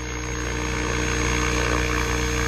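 Radio-controlled model helicopter hovering at a reduced head speed outdoors in light wind, a steady, close, continuous rotor and motor drone with a high whine running unbroken throughout.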